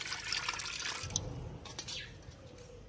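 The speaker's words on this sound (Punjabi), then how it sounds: "ਜੀ ਕੜਾਹੀ ਦੇ ਵਿੱਚ ਨਾ ਥੋੜ੍ਹਾ ਜਿਹਾ ਪਾਣੀ ਪਾਵਾਂਗੇ," Water is poured into a wok in a village kitchen, a soft splashing trickle at moderate distance that tapers off over a few seconds, with faint background noise.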